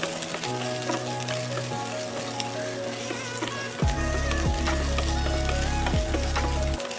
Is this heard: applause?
no